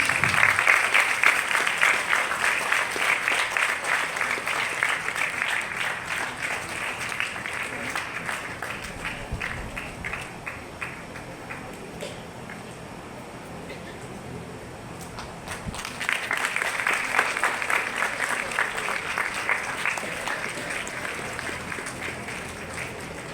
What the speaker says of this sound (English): Applaud to the echo. Audience,